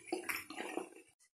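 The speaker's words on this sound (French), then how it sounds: "maintenant je prends un bon petit bain, tranquillou" Bath water sloshes and splashes as someone bathes, a close run of irregular watery swishes that stops abruptly, followed by one faint splash.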